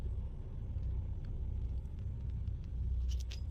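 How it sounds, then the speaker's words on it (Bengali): Bangalore road traffic heard from inside a moving city bus: a low, steady engine and road rumble with a few faint high squeaks or brake hisses near the end. "এই দেখো ব্যাঙ্গালোরের ট্রাফিক দেখো কত।"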